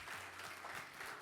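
A church congregation at a Spanish-language worship service claps together in a steady, fairly soft wash of applause that fills the whole moment, with no talk over it.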